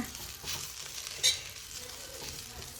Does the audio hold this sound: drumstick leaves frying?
yes